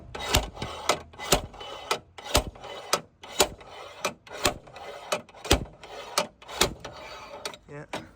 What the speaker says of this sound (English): Do you get the slide hammer on here?